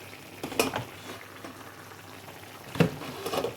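Vegetables and shrimp cook in a pan, giving a soft steady sizzle with a few louder stirring scrapes and clatters near the start and near the end, with no voices.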